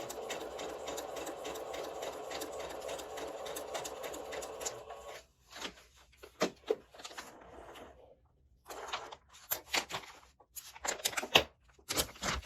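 A domestic sewing machine stitches fabric with a steady, close mechanical whir for about five seconds. It then stops and restarts in short stop-start bursts of a few stitches each, with quiet pauses between them.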